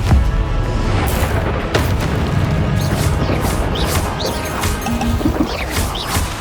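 Confringo blasting-spell explosions from the Hogwarts Legacy video game, loud repeated crashing booms and whacks over a dense game soundscape with no pause across the whole stretch.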